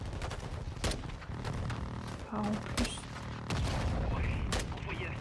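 Explosions and gunfire from Call of Duty: Modern Warfare 2 rumble loudly in repeated bursts and sharp cracks, with someone talking over the dense battle noise.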